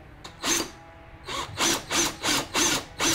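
A power drill bores straight down into wood to cut a tunnel for a carpenter bee trap, running in several loud bursts of whining and grinding with short pauses between them, and no voices.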